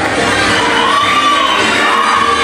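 A crowd at a queen's ball at an agricultural expo in Bragança Paulista cheers loudly for the judges, a dense wash of shouting and whoops, with a whistle rising and falling above it.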